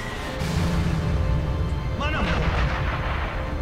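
Bombing and artillery fire in the Sniper Elite V2 war video game, dull booming blasts and rumble under a player talking, with a brief whistling sweep midway.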